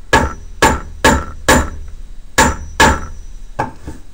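Hammer blows set metal rivets into denim jeans at the end of sewing, about seven sharp strikes in an irregular rhythm, close and loud, with no one speaking.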